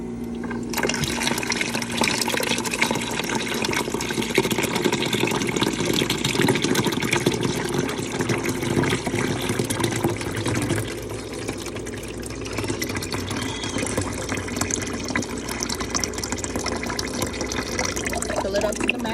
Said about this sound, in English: I fill it up with water.